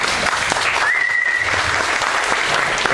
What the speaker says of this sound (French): Merci pour l'applaudissement.